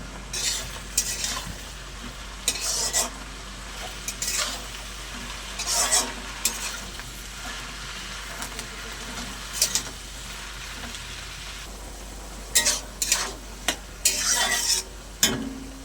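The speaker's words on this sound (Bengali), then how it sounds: "দিয়ে দেবো একটু স্বাদ মতো লবণ, দিয়ে ভালো করে একটু নাড়াচাড়া করে নেব।" Spinach with prawns and salt being stirred in a frying pan: a steady sizzle broken by repeated bursts of spoon scraping and clanging against the metal, near and loud, with no talking.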